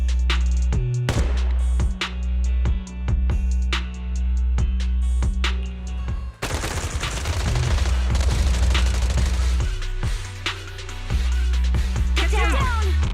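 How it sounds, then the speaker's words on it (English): Rapid, sustained bursts of suppressive marching gunfire ring out in the Zenless Zone Zero video game, sharp repeated shots over a low droning game soundscape with booming impacts, continuing densely after a brief lull midway. "Gunfire? This pattern. Suppressive marching fire."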